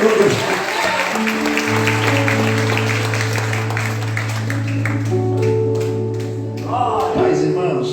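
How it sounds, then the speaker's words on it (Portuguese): A church congregation clapping for Jesus during an evangelical service, a wash of applause beneath sustained held keyboard tones, swelling and then fading near the end as a voice returns. "Dá uma salva de palmas bem forte para o Senhor Jesus."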